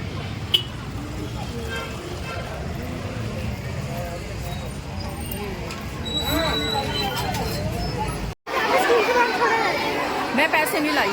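Crowd chatter fills the outdoors near a village school at drop-off time, with many voices talking at once over passing vehicle noise, steady and close, interrupted briefly by a short break before resuming.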